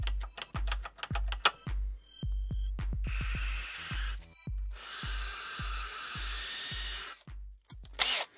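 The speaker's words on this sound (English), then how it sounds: "If you've never used one of these carbide burrs, they're amazing." A carbide burr on a rotary tool cuts a slit into a spark plug socket: repeated short grinding bursts, then longer sustained high-pitched whining cuts with brief pauses between, loud and close with no talking.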